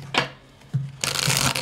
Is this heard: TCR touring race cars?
no